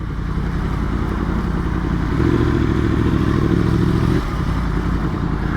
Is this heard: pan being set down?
no